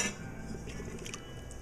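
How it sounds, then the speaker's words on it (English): A spoon clinking and scraping softly inside a pot of shrimp creole with thyme and shrimp stock, faint scattered taps over a steady low hum. "Going to give that a good stir and let that go for a while."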